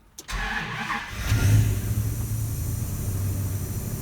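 A V10 car engine cranks and fires up after sitting in a shop, catching quickly and settling into a steady, rumbling idle close by, with no talking.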